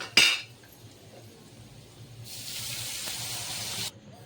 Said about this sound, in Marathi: आता आपण याच्यामध्ये टाकू पाणी